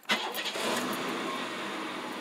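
A GM 3800 V6 engine, 1988-91, with a new ignition module cranks briefly and fires up, then settles into a steady, fairly faint idle hum.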